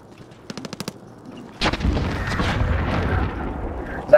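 Gunfire in Call of Duty Warzone: a quick burst of about five sharp shots, then a loud blast opening into sustained heavy firing and rumbling battle noise, fairly close and continuous to the end.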